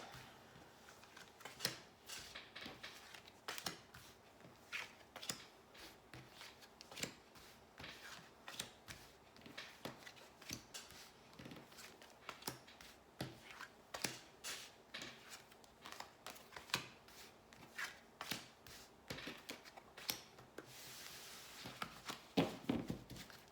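Tarot cards shuffled and dealt one after another, thirteen cards drawn in a reading: a long run of soft, quiet snaps and slides at a steady, uneven rhythm, close and low in level, with no talk.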